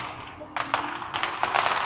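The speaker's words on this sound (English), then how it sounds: "Oh, those are fireworks." Distant fireworks on Halloween night pop in a few scattered bursts over a low background rumble, sharp cracks arriving irregularly.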